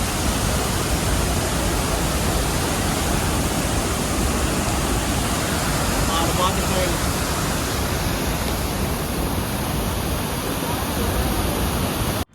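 Dudhsagar waterfall in Goa in the monsoon gives a dense, unbroken roar of falling water, loud and even throughout.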